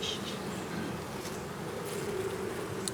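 Bees buzz steadily from an open hive during a hive inspection, a dense, continuous drone close by with no voices over it.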